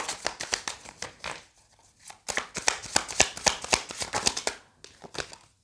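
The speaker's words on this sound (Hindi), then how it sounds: "2 कार्ड लेंगे हम यहाँ से।" A deck of tarot cards is shuffled and drawn, giving rapid bursts of crisp riffling and flicking, close and fairly loud, with a short quiet pause between bursts.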